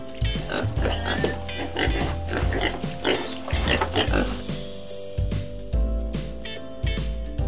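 A pig oinks loudly in a steady run of rough, grunting snorts that repeats with short breaks throughout, close and prominent.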